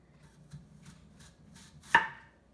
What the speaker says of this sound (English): we're gonna cut the apple together